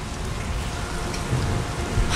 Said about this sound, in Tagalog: Mukhang may bagyo.